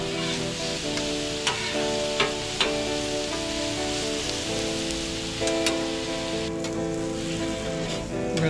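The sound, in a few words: steak and potatoes cooking on a griddle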